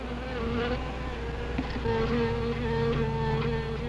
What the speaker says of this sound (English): Wasp, you better be careful. They can sting a man to death.